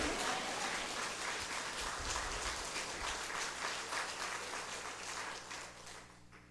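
A church congregation claps together during a sermon, a thick burst of applause that slowly thins and fades toward the end.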